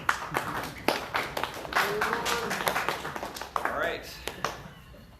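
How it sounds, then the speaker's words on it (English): People at an amateur radio club meeting give a slow clap, with evenly spaced hand claps about half a second apart. A voice speaks briefly over the claps. "Slow clap."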